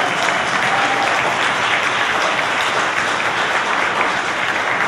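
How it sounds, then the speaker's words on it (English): An audience at an art summit gathering claps together in sustained, dense applause, a loud even wash of many hands that holds steady from start to finish without voices. "I'd like to give a round of applause for Amelia, the volunteers, Jeanne,"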